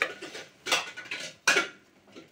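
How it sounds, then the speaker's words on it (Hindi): A metal spoon clinks against a pot or cup while tea leaves are added to tea, two sharp close clinks with softer scraping taps between them. "यहाँ पे चम्मच निकालते हुए अभी चाय में डालेंगे चाय पत्ती"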